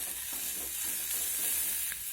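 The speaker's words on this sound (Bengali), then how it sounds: "চিকেন মশলাটা দিয়ে একটু নেড়ে চেড়ে এর মধ্যে আমি দিয়ে দেবো অল্প একটু জল" Chicken pieces frying in a pan with masala while being stirred, a steady close sizzle with soft scraping strokes throughout, no voices.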